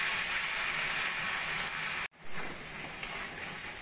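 Spice paste for a katla fish curry fries in oil in a pan with a steady, close hissing sizzle that breaks off for a moment and then resumes.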